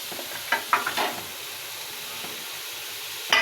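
Chopped onions dropped into a hot pan, giving a soft sizzle and fry with a few sharp stirring clatters early on and a final scrape, fairly quiet and close with no talk.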